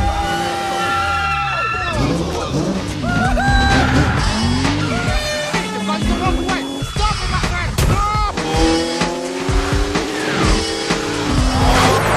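A car chase from the action film The Transporter, with loud roaring engines, sweeping pitch changes and squealing tires, plus sharp impacts and shouts, dense and continuous throughout.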